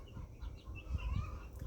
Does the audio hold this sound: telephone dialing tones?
no